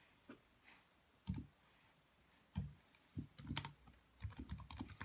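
Keys on a computer keyboard clack in short irregular bursts, close and fairly quiet, with a faster run of taps near the end and no talking.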